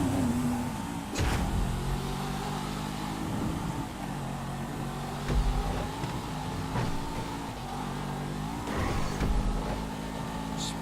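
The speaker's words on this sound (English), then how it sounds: "Sports cars on Dorset Drive." Sports cars race along Dorset Drive in GTA Online, a steady blend of several engines droning and revving under shifting gears, with occasional sharp bumps or impacts; no one talks over the continuous traffic roar.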